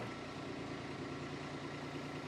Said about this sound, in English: So now I've got the engine down slow and the pressure isn't very high.